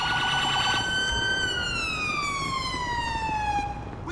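An emergency vehicle siren in the GTA 5 video game with a UK police mod, a loud steady wail that slowly sweeps downward in pitch over ambient traffic noise.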